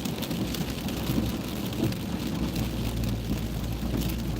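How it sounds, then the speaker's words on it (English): Steady rain falling with low rumbles of thunder beneath, a continuous dense hiss at moderate distance, no voices. "We needed a little rain."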